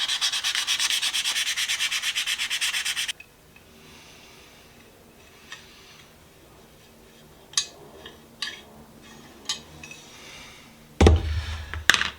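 Rhythmic back-and-forth rubbing of 1000 grit sandpaper with WD-40 on a Stanley Sweetheart metal level, steady and close for about three seconds, followed by quiet handling clicks and a sharp knock or two.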